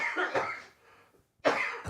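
A person coughs during a piano livestream, two short raspy bursts close to the microphone separated by a quiet pause, with a faint throat sound in between.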